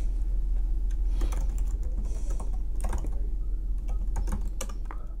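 Keys tapped on a computer keyboard while a password is entered, a short run of soft, irregular clicks close by over a low background hum.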